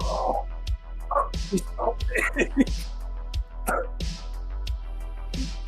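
A large dog barks and yips repeatedly in short bursts, with whimpering between calls, heard alongside a low steady hum and intermittent speech-like sounds.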